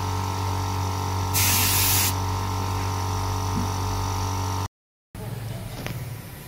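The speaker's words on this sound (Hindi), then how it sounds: "पूरे के पूरे हाई प्रेशर पे इसको स्प्रे किया है" High-pressure spray gun misting gold paint onto a steel piece: a loud, steady broadband hiss bursts for about a second over a constant machine hum, then a short gap and a rougher, noisier stretch of spraying follows.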